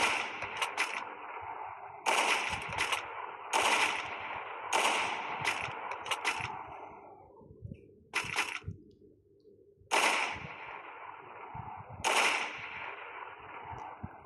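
Video game gunfire rattles in repeated short bursts of sharp cracks, several volleys spread across the stretch with quieter pauses between, fairly loud and close with no talk over it.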